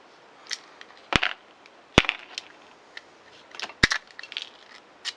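Screws come out of a Mitchell 606 sea fishing reel during a teardown, giving a few crisp, close metallic clicks and snaps with quieter small handling taps between them.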